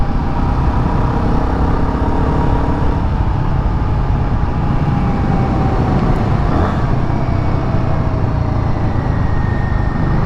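A Royal Enfield Guerrilla 450 is ridden on the road, and its engine drones loudly and without a break under heavy wind rush. The pitch shifts a little as the bike moves along, with no talking.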